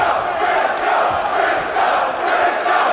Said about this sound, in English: Listen to this crowd, John.